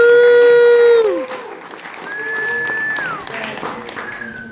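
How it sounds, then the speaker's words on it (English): Applause from a graduation ceremony crowd rises after a sustained tone fades, clapping continuing steadily under scattered voices and brief electronic tones. "Can we give another round of applause for the wonderful speakers?"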